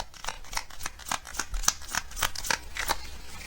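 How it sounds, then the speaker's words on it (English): Tarot cards rasp and slap as they are shuffled and one is drawn from the deck, giving a quick run of crisp, close, papery snaps and swishes. "I think I just want to get another card from this deck."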